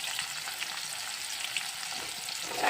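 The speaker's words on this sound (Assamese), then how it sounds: "তাৰপাছত অকণমান ৰঙচুৱা পোৱালৈকে ভাজি থাকিবলৈ দিম" Chopped onions with ginger-garlic paste fry in a kadai, giving a soft continuous sizzle and crackle, fairly quiet and alone.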